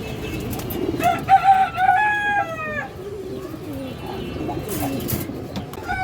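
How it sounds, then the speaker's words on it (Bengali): A large domestic pigeon coos in a series of soft, rising and falling calls up close, with other birds calling and some background rustling. "বড় সাইজের একটা কবুতর"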